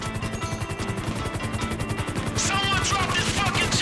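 A helicopter in the video game GTA V throbs with a steady, rhythmic rotor chop that grows louder and brighter toward the end, mixed with other game sounds.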